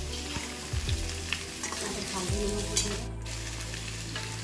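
Pork pieces fry and sizzle in a pan, cooked without added oil, with a loud, steady hiss close by and occasional scraping from stirring.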